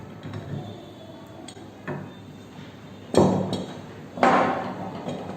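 A wood chisel cuts into a clamped piece of wood in a few separate strikes and scrapes, the last two louder and sharper, with quiet pauses between them.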